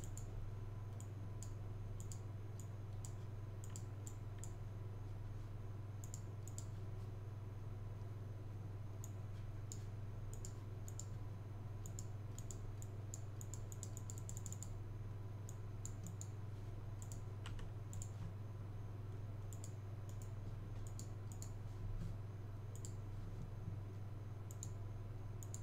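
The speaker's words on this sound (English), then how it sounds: "I'm gonna have to type in my email address." Faint, fast key clicks of an email address being typed on a computer keyboard, sitting over a steady low hum through most of the stretch, with no one speaking.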